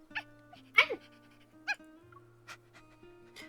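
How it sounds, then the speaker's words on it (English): A small dog in the Love and Deepspace video game gives several short yips and whimpers, bright and close, spaced through the clip over a quiet synth music bed. "The small dog ignores the stern words from Onakai's leader. It cheerfully barks and quickly licks Silas's cheek."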